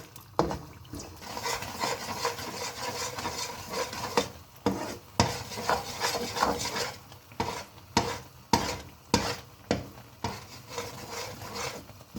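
Jaggery syrup cooks in a pan while being stirred, with a soft bubbling sizzle broken by repeated rhythmic scraping and knocking strokes of the spoon, close and moderately loud.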